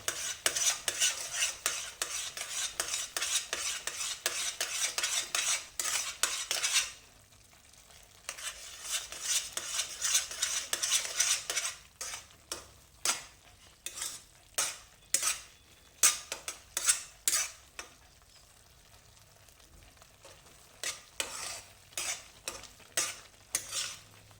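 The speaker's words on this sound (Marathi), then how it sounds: "थोडं थोडं दूध घालत ढवळत ढवळत ते दूध घालत जा" A spoon scrapes and clanks repeatedly against a pan while semolina sheera is stirred and milk is added, with bursts of sizzling hiss, pauses, then a steady run of separate stirring strokes.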